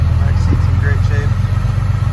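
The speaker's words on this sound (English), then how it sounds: "It's like 36 degrees here right now, so it's going into high idle because it's too cold" A 2011 Ram 3500 with the 6.7 diesel sits in high idle on a cold 36-degree day, a loud steady low rumble filling the whole stretch while a person talks over it.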